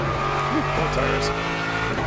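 Tires squeal on a GT race car in the Le Mans Ultimate racing game as it pushes through a corner. The steady engine drone carries wavering squeals throughout.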